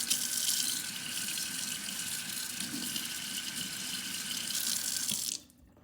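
Tap water runs steadily into a sink as paint is rinsed out of a paintbrush, a continuous close splashing flow that cuts off abruptly near the end.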